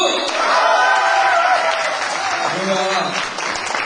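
An audience at a friendship night event claps steadily, a dense continuous round of applause filling the hall for several seconds.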